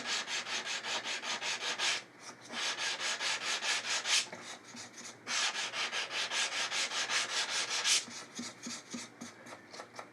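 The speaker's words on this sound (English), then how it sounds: "I'm going to hit it with a hard sanding block and some 320 grit paper" Fast, continuous back-and-forth hand sanding with a hard block and 320-grit paper on a guitar finish, close up, in several long bursts separated by brief pauses.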